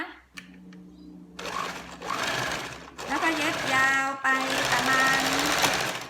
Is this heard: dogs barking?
no